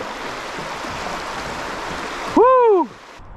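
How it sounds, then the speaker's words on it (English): Fast river rapids rush in a steady, loud broadband wash, with a voice whooping briefly near the end before the water noise drops. "A little bit of fast water."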